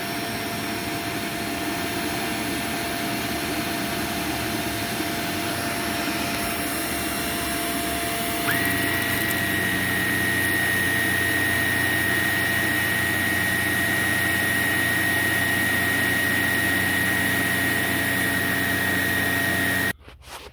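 Shark NV752 vacuum cleaner running on its low pile setting, a steady loud motor whine and rushing airflow that shifts to a slightly different, sustained tone partway through before cutting off at the end, with no talk.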